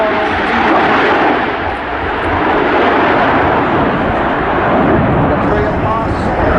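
A display aircraft flying a trail pass at the Royal International Air Tattoo at RAF Fairford gives a loud, sustained jet roar that fills the clip, with talk faintly underneath.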